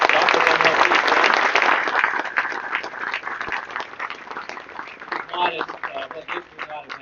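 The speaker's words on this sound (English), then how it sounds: "Ladies and gentlemen, please give them a round of applause." Audience applause at a live-streamed event, a dense burst of many hands clapping that starts loud and full, then thins and fades into scattered claps over several seconds.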